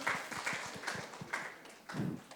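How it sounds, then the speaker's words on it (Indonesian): A small group of seminar attendees claps a few times, with sparse, separate claps rather than a full ovation, and some low noise near the end. "Boleh tepuk tangan teman-teman?"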